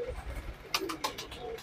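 Pigeons in a breeding loft of Guldar and Hyderabadi fancy birds give low coos, with a few sharp knocks or wing flicks partway through, close by and without talk.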